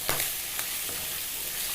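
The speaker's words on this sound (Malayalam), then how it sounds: "നെരിഞ്ഞ് പൊട്ടി തെറിക്കുന്നുണ്ട്." Squid frying in hot oil gives a dense, continuous sizzle close by, with a few sharper crackles and pops standing out early on.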